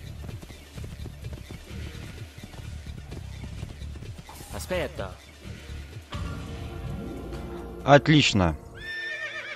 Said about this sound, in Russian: Садимся на лошадку.